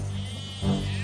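Sheep and goats bleat in a field, a single brief, nasal bleat rising near the end over a steady background, fairly close with no talk.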